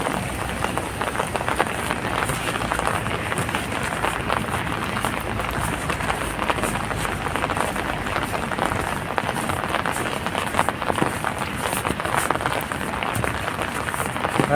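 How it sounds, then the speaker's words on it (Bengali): Heavy morning rain in Kuwait pours down in a dense, steady roar of drops drumming on surfaces, loud and unbroken throughout. "আজকে বৃষ্টি হচ্ছে, প্রচুর বৃষ্টি।"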